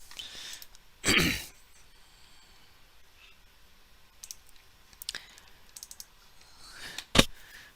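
Keys on a computer keyboard are typed in a quiet room as a few sparse, crisp clicks and short bursts, separated by long near-silent gaps.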